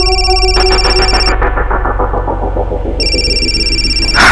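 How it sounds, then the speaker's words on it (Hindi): A telephone rings with a bright electronic warble, a burst, a brief pause, then ringing again, loud and close with no talk over it. "इस मक्कर का भी फोन अभी आना था"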